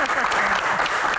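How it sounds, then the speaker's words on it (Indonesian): An audience at a question-and-answer event applauds, a dense, close burst of clapping that stays loud and even throughout. "Baik, tepuk tangan."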